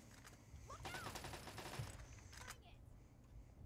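Rapid gunfire in Fallout 3 rattles as a dense burst of shots in the middle, fairly faint and distant, with scattered quieter sounds before and after.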